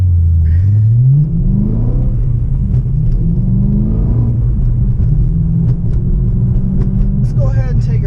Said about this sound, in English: We can get some of this good old V8 engine noise going